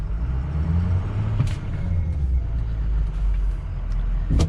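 A 2005 Ford F250 King Ranch pickup idling with a steady low rumble while being shifted into 4 low, with a few brief clicks and clunks from the shifter over the engine drone.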